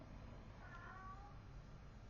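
A house cat meows in the background, two faint drawn-out calls at moderate distance over steady low room noise.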